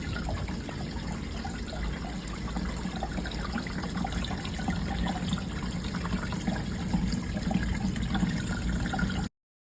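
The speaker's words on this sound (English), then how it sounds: "Now let's run our water through." Water runs steadily through a hydroponic farmstand growing kale and lettuces, a continuous close trickle and splash that holds at an even level for the whole stretch, with no voices.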